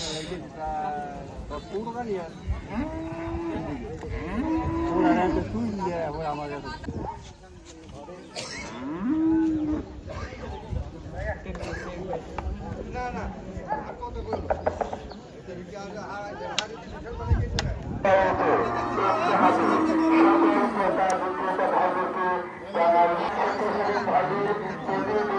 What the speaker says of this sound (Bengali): এটা হচ্ছে মহিষ।